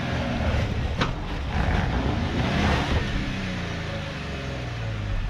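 An unlocked Jeep on slippery tyres crawls through water over smooth, slick rocks, its engine droning steadily and close with a broad rushing wash and brief surges of revving.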